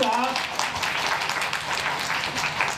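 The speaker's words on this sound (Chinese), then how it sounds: "请大家鼓掌" A crowd claps briefly at a plaque unveiling ceremony for a district census office in Nanzih, Kaohsiung, producing a moderate, scattered patter of applause.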